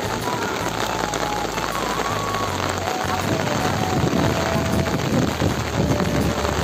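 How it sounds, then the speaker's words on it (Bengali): Steady rain falls on a rice paddy field during planting, a dense, constant hiss of drops close by with a low rumble underneath. "বৃষ্টি পড়ছে এই যে।"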